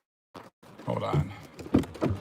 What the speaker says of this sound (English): Put the windows up.